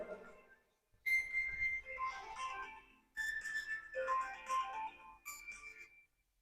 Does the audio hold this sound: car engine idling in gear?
no